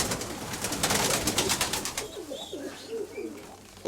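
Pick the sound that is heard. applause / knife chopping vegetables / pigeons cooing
pigeons cooing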